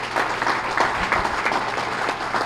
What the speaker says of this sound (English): Give Bob Nelson a round of applause.